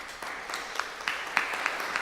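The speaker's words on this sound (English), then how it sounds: "So round of applause for them." Applause from an audience at a budget forum meeting, a brief spell of moderate, fairly distant clapping with a few sharper individual claps standing out.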